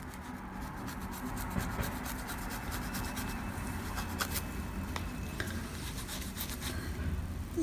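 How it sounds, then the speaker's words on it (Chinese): A small brush scrubs a phone's earpiece grille with 75% alcohol while the phone lies face down, making a faint, steady scratchy rubbing that runs on without talking. "我们蘸点酒精，然后这个手机在扣着情况下，我们刷一下这个听筒"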